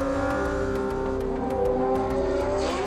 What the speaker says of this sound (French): Des voitures de course illuminées comme des navettes spatiales qui, lancées à toute vitesse au milieu des buildings